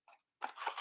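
Scissors trimming paper or ribbon during a craft project with glue dots, a short faint snip followed by a louder, longer crunchy cutting burst close by.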